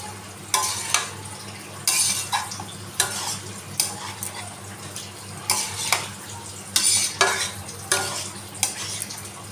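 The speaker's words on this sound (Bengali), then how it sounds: "এবার আমি এর মধ্যে দিয়ে দেবো ভেজে রাখা আলু, ভেজে রাখা চিংড়ি মাছ, এবার ভালো করে মিশিয়ে দেবো।" Fried potatoes and prawns are stirred through a sizzling pan, with repeated scraping strokes of a utensil against the metal at a steady rhythm, close and fairly loud.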